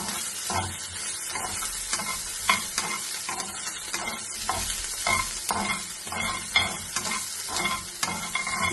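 Ivy gourd (kovakka) roasts in a pan, its soft sizzle broken by a regular rhythm of stirring and scraping strokes, close and fairly quiet.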